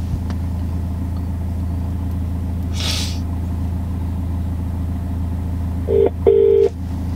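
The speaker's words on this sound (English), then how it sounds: "See if we can get old Ron Lyle on phone" Telephone keypad dialing tones ring out as two short electronic beeps near the end, over a constant low rumbling hum like an idling engine.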